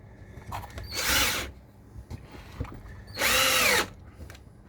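A power drill drives screws into wood in two loud bursts of whining spin that slow as each screw bites, close up with quiet handling sounds between.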